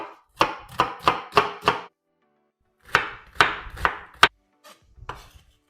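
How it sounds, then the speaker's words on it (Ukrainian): A knife finely chopping onion on a cutting board, five quick evenly spaced strokes, then a pause and a few more slower cuts, close up. "Беру цибульку, я візьму половинку, бо ціла буде забагато, і дрібненько нарізаю."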